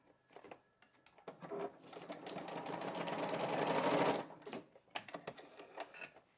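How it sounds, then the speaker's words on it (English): A domestic sewing machine runs a steady burst of stitching next to a printed stitch line on a scrapbook page, with short taps and handling before it, then a buzzing run of several seconds that stops abruptly. "I'm just going to stitch next to this, the printed stitching, which is the standard little stitch to give it a bit of texture."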